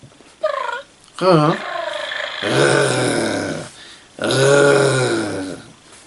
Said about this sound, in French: On va caresser notre petit chat tranquillement.